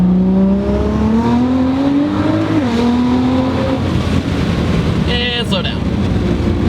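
A 600 HP Nissan R35 GT-R drives through town, its engine drone loud and close, climbing in pitch as it accelerates, easing off, then pulling again, with a brief higher whine near the end.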